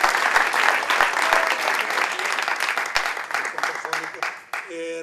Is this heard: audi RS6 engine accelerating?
no